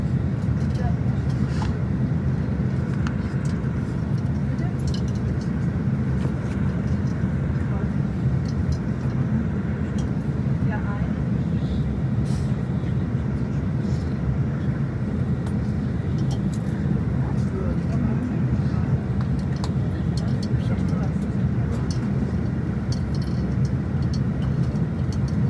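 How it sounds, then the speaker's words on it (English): A bus backs slowly down a road in Heidelberg, Germany, heard from inside as a steady low engine rumble and road noise running throughout, with people talking faintly over it. "We're currently in the bus and he's having to back down the road"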